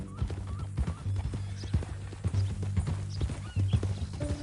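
Horse hooves clip-clopping at a steady walking rhythm in Red Dead Redemption 2, the mean-looking new horse close by, with a few low snorts and harness rattles mixed in and no talk.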